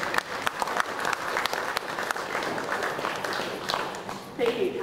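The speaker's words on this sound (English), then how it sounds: "I think that deserves a round of applause, doesn't it?" Applause from mourners at a funeral service, a steady patter of many hands clapping at moderate distance for several seconds with a slight swell near the end.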